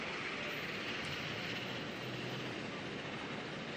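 ATR turboprop airliner inbound from Tauranga to Auckland Airport, a steady broadband roar from the approaching aircraft, moderately distant, filling the whole stretch without a break.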